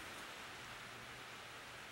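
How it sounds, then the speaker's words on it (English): Steady rain falling, a dense even hiss with no voices, continuous and fairly close throughout. "It's raining."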